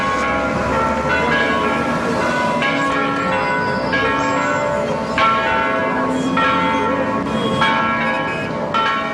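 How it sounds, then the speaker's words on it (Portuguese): Church bell ringing in the Santana neighborhood of São Paulo, with repeated strikes sounding steadily over dense city traffic noise, fairly loud throughout. "O sino você ouve"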